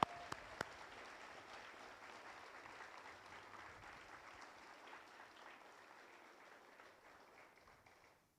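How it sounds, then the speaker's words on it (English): A crowd at a K9s For Warriors graduation ceremony gives a round of applause for veterans, steady moderate clapping lasting several seconds with a couple of sharp claps at the start, tapering off gradually at the end. "How about a round of applause for our warriors?"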